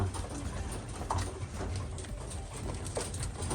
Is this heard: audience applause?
no